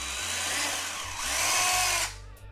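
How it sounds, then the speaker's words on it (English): A power drill bores through the plastic bumper of an Acura RSX (DC5) car, one continuous whining run that rises in pitch near the end and then stops, loud and close. "so I'm just going to drill right through"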